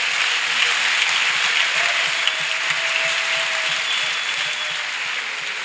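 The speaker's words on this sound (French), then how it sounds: "Clap offering to Jesus." A church congregation clapping together as an offering of praise, a dense sustained roar of applause from a large crowd that holds steady for several seconds before easing slightly, with no speech over it.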